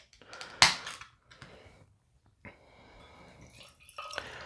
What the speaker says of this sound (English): We're gonna crack it open. We're gonna pour it.